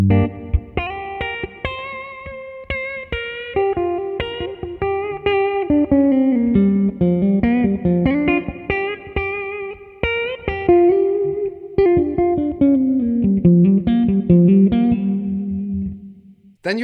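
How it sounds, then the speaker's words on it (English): Epiphone Riviera P93 Custom electric guitar played with all three pickups on, a steady run of ringing chords and picked notes, close and fairly loud with a touch of effects, no talking. "if you go up to the middle position and you turn up the volume on the neck pickup, you actually have all 3 pickups working simultaneously."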